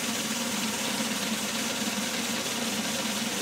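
A homemade DIY belt sander runs steadily on its own, a continuous broadband whir and hum with no pauses, close and fairly loud.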